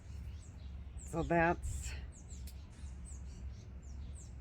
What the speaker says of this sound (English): Can you hear those birds arguing in the background?